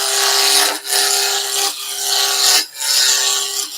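A roughing gouge cuts wood on a lathe spinning at about 2000 RPM, with a steady loud rasping hiss broken by brief dips as the tool lifts between passes, close and continuous.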